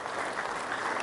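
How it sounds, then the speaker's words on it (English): Brief applause for an Opals assistant coach at a junior basketball training session, a short, even patter of clapping from a small group, fairly close. "If we don't mind giving Laurie a round of applause."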